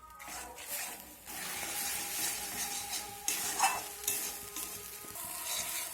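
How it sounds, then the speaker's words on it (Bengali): Potato and tomato are stirred in a wok so the moisture cooks off: a steady scrape and shuffle of a spatula over a continuous sizzle, loud and close, with no voices. "এখন আমি সব কিছু নেড়ে চেড়ে এটাকে শুকিয়ে নেব।"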